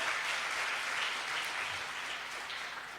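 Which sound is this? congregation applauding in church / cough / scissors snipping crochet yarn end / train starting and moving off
congregation applauding in church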